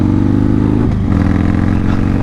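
A motorcycle engine revs hard and steady during a small wheelie on twisty roads, a loud close drone with a brief dip and a pitch shift midway.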